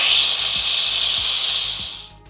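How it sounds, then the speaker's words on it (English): Steam hisses loudly and steadily from an Instant Pot's quick release while cooking cauliflower soup, a close, continuous rush that tapers off at the end. "So we are gonna do a quick release."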